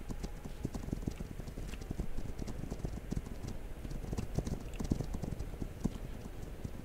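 Hooves of several horses clip-clop steadily in a video game, a dense, continuous patter of hoofbeats running without pause and with no speech over it.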